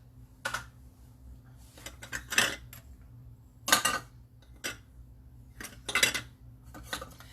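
A spoon scoops and taps brown sugar into a small quarter-cup measure, making intermittent clinks and scrapes in separate bursts over a low steady hum, close by, with no talking.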